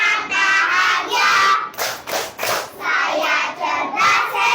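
A school class performs an affirmation clap, a quick cluster of sharp group hand claps set between stretches of loud children's voices chanting together.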